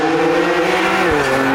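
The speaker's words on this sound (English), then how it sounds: "That M Performance exhaust is just sounds great." A BMW F82 M4 with an M Performance exhaust accelerating on a track, a loud close engine tone rising steadily in pitch before a quick gear change drops it briefly.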